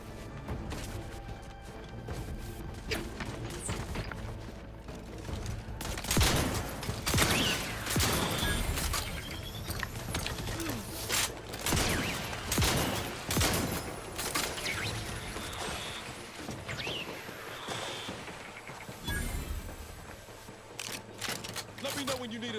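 Rapid bursts of gunfire in the video game Outer Worlds 2, sharp repeated shots and impacts over a busy game soundscape with in-game voices and talk throughout.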